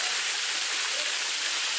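Water from a waterfall pours in a steady, broadband rush, continuous and fairly close, with no voices.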